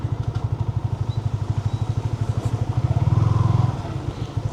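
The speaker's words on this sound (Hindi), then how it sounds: "तो बाइक को कहाँ लगाऊँ आज मैं, इसकी बराबर में लगा देता हूँ, गाड़ी की बराबर में।" Motorcycle engine idling close by as it is parked beside a car, a steady rapid thumping putter that swells slightly near the end.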